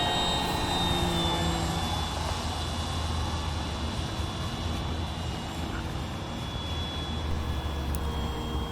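An Avios Grand Tundra Plus, a 1700 mm EPO foam RC sport model airplane, makes a close pass with a steady, fairly loud electric motor whine holding throughout, with no talking.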